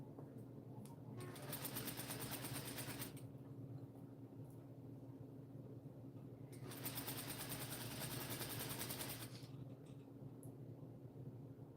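A sewing machine edge-stitching a quarter-inch seam on a pocket runs in two bursts of fast, buzzing stitching, each about two to three seconds, over a constant low mechanical hum.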